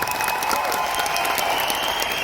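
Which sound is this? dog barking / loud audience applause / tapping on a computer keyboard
loud audience applause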